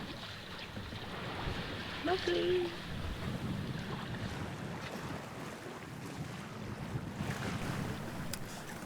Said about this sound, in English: you just hear the sound of the water and